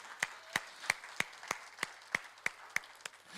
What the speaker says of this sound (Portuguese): Você pode aplaudir Jesus, querido?